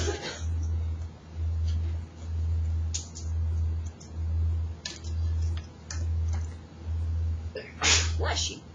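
A single sharp sneeze near the end of a quiet moment in a classroom during a math lesson, with a steady pulsing hum underneath and faint room noise.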